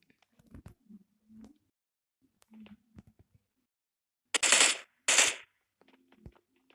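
Two short, loud bursts of machine gun fire ring out in the video game PUBG Lite, following a few quiet clicks and small game noises, then the scene falls quiet again.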